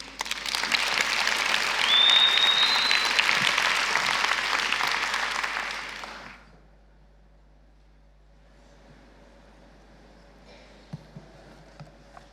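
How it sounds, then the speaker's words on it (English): A conference audience at a feminist foreign policy event applauds the Dutch Minister of Foreign Affairs as keynote speaker, a broad, sustained round of clapping that fades after six seconds into quiet room noise. "If you give a warm round of applause, please, to our keynote speaker"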